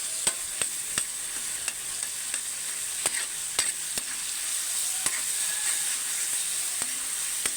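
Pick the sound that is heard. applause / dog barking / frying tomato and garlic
frying tomato and garlic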